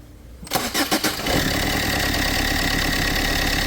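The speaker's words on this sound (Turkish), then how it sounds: "Şimdi birkaç kere kontak marş yap bırak." A Fiat Multijet diesel car engine cranks with the starter in several quick pulses, then catches and settles into a steady idle.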